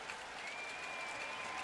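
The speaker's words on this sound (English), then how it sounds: "Fans are starting to clap for this guy now." Baseball fans in Cleveland applaud Pedro Alvarez during a Pittsburgh at Cleveland game in June 2012, with steady, dense crowd clapping that holds at an even level from start to finish.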